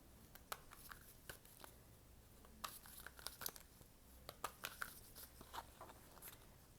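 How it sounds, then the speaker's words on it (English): Tarot cards being shuffled by hand, a quiet run of soft crisp riffles and papery flicks at an irregular rhythm, close up with no talking. "I was just shuffling."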